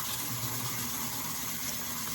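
Running water pouring over a glitter epoxy tumbler during soapy wet sanding with 1200-grit paper, heard as a steady, close, continuous rushing hiss with no talking.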